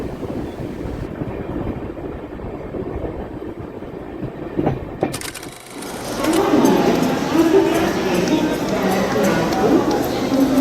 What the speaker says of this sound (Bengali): আমাদের ট্রেন ছেড়ে দিয়েছে তো চললাম এবার বাড়ির পথে